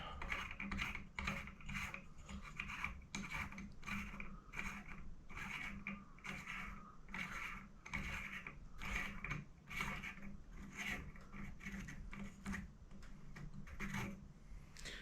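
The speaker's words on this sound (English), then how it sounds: "So these just screw off here." Parts of a light fitting being unscrewed by hand in a Japanese countryside house: a steady run of faint, close scraping, ticking and ratcheting clicks, with no talking.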